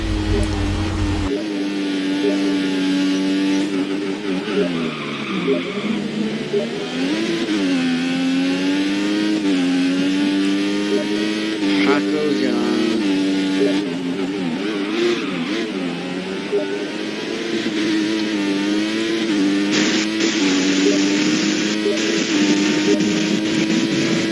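Formula 1 car engine in the F1 2014 racing game, a loud continuous high-pitched whine rising and falling through gear changes and revs for the whole stretch, with no talk over it.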